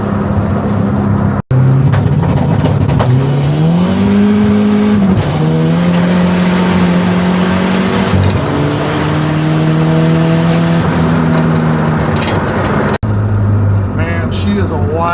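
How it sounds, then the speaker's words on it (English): A Ford Probe GT with an HX35 turbo near 30 psi accelerates hard through the gears, loud engine climbing in pitch with each shift and tire spin audible, under excited talk from inside the car. "She spun all the way through third gear to almost 90 miles an hour right there."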